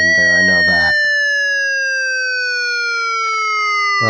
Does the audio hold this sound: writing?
no